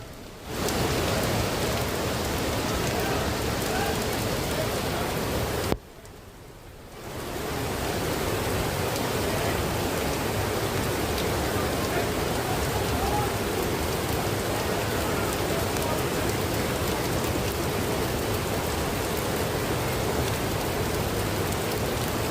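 Heavy rain pours down while rainwater gushes and overflows off the rocks at Parasgad, a dense, continuous hiss of downpour and rushing water that briefly dips before resuming at full strength.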